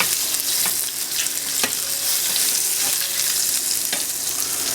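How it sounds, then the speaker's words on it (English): A burger patty sizzles and fries steadily in a hot pan, a dense close hiss with a few brief stirring clicks and scrapes, no voices. "The pan's been heating up about 5 minutes. And then we'll add our burger"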